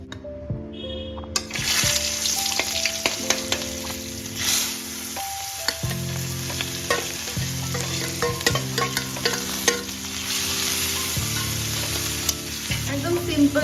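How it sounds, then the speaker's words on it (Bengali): A tomato, ginger paste, onion paste, chili and garlic masala frying in a pan, a loud continuous sizzle with stirring and scraping throughout, backed by a steady musical background; no talking. "এখানে টমেটো আছে আদা বাটা আছে পেঁয়াজ বাটা লঙ্কা আর রসুন এটাকে দিয়ে আমি ফ্রাই করব মশলাটা"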